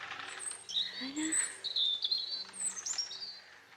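Outdoor birdsong: several small birds trill and tweet in quick overlapping calls, fairly near, against a quiet background with a low steady hum.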